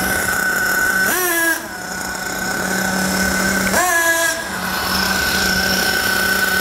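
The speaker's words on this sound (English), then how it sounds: "So I'm gonna blip the throttle. Listen for that. Listen to the engine and also watch the exhaust pipe." Nitro RC car engine, running a little rich, idles steadily then revs up sharply twice as the throttle is blipped, each rising whine falling back to idle.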